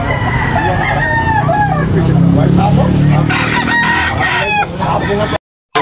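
Roosters at a poultry sale in Tabunok crow loudly and up close, one long crow overlapping clucks and more distant crowing from other fowl, with traffic faint in the background.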